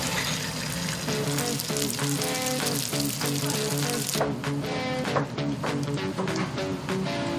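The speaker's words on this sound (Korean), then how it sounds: "바삭하게 튀기는 홍어튀김은 코를 뻥 뚫어주는 별미 중의 별미." Steady, dense sizzling of skate fritters frying in hot oil, continuous and close, with no talking.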